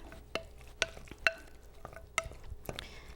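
Guacamole being stirred in a bowl, soft irregular scraping and clicking of the utensil with a few sharper taps, quiet and close with no voices.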